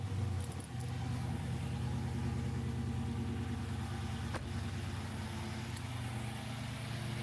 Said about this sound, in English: Now we got our engine running